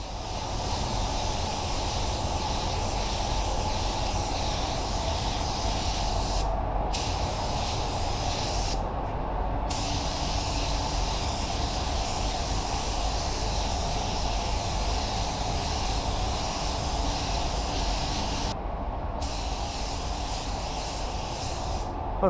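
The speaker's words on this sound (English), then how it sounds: "I'm gonna turn my pressure down because I don't want to be throwing too much paint all over the place" A paint spray gun hisses steadily while spraying a blend coat on a car, a continuous loud airy rush broken by three brief pauses, with no talking.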